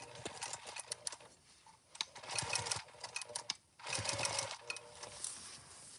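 A sewing machine stitches a park bag in several short runs: close mechanical whirring bursts separated by brief pauses, starting and stopping at the fabric's end.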